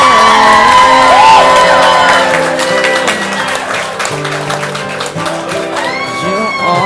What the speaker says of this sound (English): give our lovely bride and groom a nice round of applause.